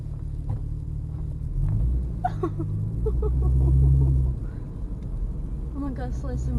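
Low engine rumble of a car moving slowly, swelling slightly in the middle, with people talking over it.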